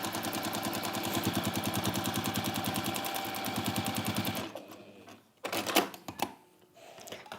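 Sewing machine stitching a quarter-inch seam on a folded fat quarter fabric bag, a rapid even mechanical chatter for several seconds that stops abruptly, followed by a few scattered clicks and handling noises.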